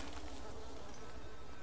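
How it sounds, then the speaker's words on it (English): Bees swarm at a beehive in the video game Dying Light 2, a steady, dense insect buzz droning continuously and fairly close throughout, with no talk over it. "I knew I heard bees"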